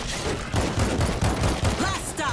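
Rapid bursts of gunfire in the video game World War Z, loud repeated shots in a fast rhythm, with a voice talking in between.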